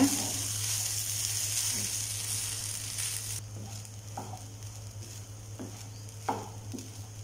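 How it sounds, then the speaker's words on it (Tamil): Cooked rice being mixed into a pan of potato rice gives a soft, low sizzle under a steady hum, with a few light scraping stirs spaced out toward the end, quiet and close. "சாதம் ஆட் பண்ணி நல்லா மிக்ஸ் பண்ணி விட்டுக்கோங்க"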